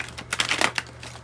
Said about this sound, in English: what is going on with the shuffle here.